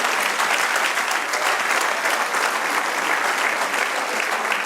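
A church congregation claps together in a loud, sustained, even round of applause that fills the space from start to finish.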